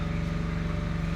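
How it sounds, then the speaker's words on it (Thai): An electric generator runs at a Thai forest temple, a steady low mechanical drone with a rapid even pulse, close and constant without speech. "เสียงเครื่องปั่นไฟ"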